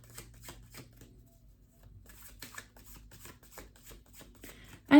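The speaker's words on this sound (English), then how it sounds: "Another card." Tarot cards being shuffled by hand in quick soft riffling bursts, faint and close, with a brief louder knock at the very end.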